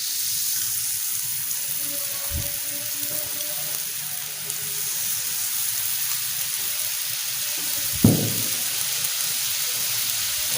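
Butter sizzling on a hot tawa with mutton liver, a steady hissing fry running throughout, with a couple of brief clinks.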